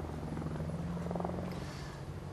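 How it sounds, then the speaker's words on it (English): A police helicopter hovering overhead during the return of Princess Diana's body to Britain, a steady faint rotor drone and engine hum that carries on without a break. "A helicopter hovering overhead. Police helicopter, I would imagine, making sure that there are no unwanted intruders into this scene."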